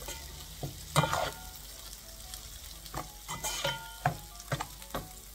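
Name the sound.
potatoes with spices stir-frying for poha pulao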